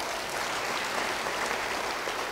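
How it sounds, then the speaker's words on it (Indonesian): A congregation applauds during a church service, with sustained dense clapping from many hands, steady and fairly loud throughout and no voices. "Yang mau beri tepuk tangan bagi dia."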